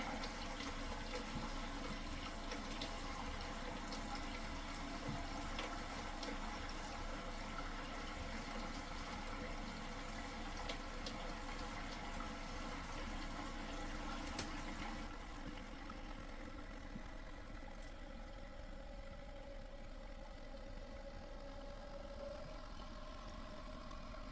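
A toilet tank refills through its water fill valve with a faint, steady hiss of running water that continues throughout and eases slightly toward the end.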